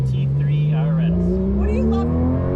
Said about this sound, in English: we are driving in a fast Porsche